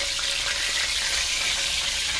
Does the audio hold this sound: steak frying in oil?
yes